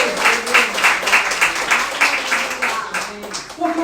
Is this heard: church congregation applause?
yes